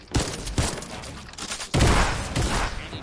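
Rapid bursts of rifle gunfire from a legendary infantry rifle in a Fortnite match, with sharp repeated shots in quick clusters and a heavier, louder volley near the end.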